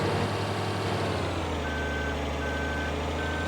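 A semi truck in the video game Farming Simulator 2013 sounds its reverse warning with three evenly spaced electronic beeps over a loud, steady diesel engine drone, and no one speaks.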